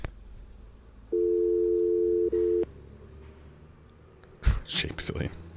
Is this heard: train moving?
no